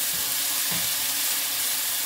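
Ginger garlic paste going into hot oil, producing a steady, hissing sizzle that stays even throughout, with a faint soft thud of the paste landing.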